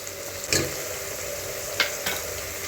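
Ginger garlic paste fries in a pan with a steady close sizzle, punctuated by a few sharp scrapes and taps of the spoon as it is stirred.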